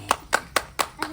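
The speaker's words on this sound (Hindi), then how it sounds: "ताली बजा ताली बजा।" Five sharp, close hand claps land at an even, deliberate pace, each a crisp slap followed by a short gap, during a comic wedding-skit scene.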